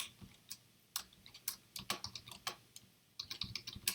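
Quick bursts of keystrokes clatter on a computer keyboard as Java code is entered, close, crisp clicks in uneven runs with short pauses, and nobody speaking.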